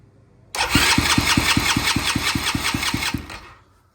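A small engine on a homemade three-wheeler minibike trike cranks and fires into a rapid, steady chugging, loud and close, lasting about three seconds before cutting out; no talking.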